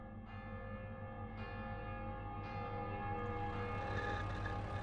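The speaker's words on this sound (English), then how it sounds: "In the distance, we can hear the bells of Viviers, Mondol, Carfontaine, and Bagué-Morvan." Church bells ring in the distance, several strikes layered into a sustained, resonant peal over a low droning background, with no one speaking.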